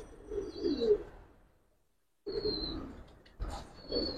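Giribaz pigeons coo up close in soft, throaty bursts. A louder run of cooing is followed by a brief silence, then more cooing and higher chirpy calls resume.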